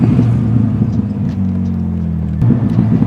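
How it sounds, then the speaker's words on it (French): A Morgan Roadster V6 3.7L rumbles steadily while decelerating, a low engine drone with faint, scattered exhaust pops and crackles under it, heard from inside or near the car. "lors de la décélération, on a les petits pétarades à l'échappement, les petits pop and bang que l'on entend un petit peu"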